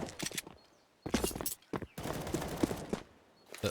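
Bursts of pistol gunfire in a Counter-Strike match on the Inferno map, clusters of sharp cracking shots separated by short silent gaps, loud and close throughout.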